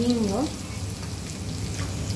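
Steady crackling sizzle of mustard seeds popping in hot oil, close and continuous, with a brief voice at the start.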